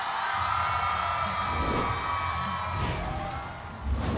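A studio audience at a televised singing show cheers and applauds continuously, a dense loud crowd roar with whoops rising near the end.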